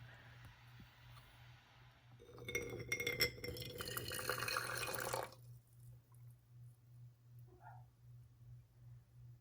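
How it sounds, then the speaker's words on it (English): Hot water poured from a kettle into a French press to preheat it, a steady splashing pour lasting about three seconds over a low electrical hum, followed by quiet with a few faint clinks. "I'm going to pour a little bit of the hot water in here to preheat this."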